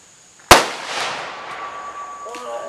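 A single loud, close gunshot from a .500 Magnum revolver fired outdoors at soda bottles, a sharp blast followed by a long decaying rumble, with a faint whistle-like tone and a brief voice near the end.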